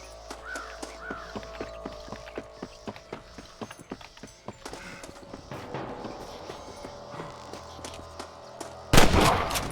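Gunfire in the Red Dead Redemption video game, a rapid run of sharp cracking shots over horse hooves and crow caws, ending in a loud, close burst.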